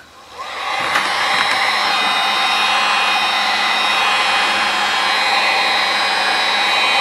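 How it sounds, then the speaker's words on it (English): A heat gun, used while installing a vent on a Ski-Doo Rev 800 snowmobile, switches on and blows with a loud, steady whooshing hum that holds constant throughout. "Heat gun really helps out."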